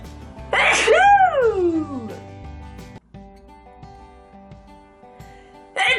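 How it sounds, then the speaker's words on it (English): A single loud sneeze with a rising, squeaky vocal sweep, followed by quiet background tones and a brief sound at the end. "I need to sneeze."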